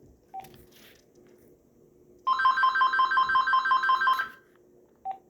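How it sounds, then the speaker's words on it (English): An AT&T SL82218 cordless phone handset rings on intercom, a close electronic ringer of rapid repeating warbling beeps lasting about two seconds, framed by single short key tones. "Should we do an intercom test on handset 1?"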